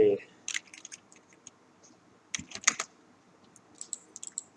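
Scattered keystrokes on a computer keyboard while Python code is written: short, sharp clicks come in small clusters with quiet gaps between, close and fairly soft.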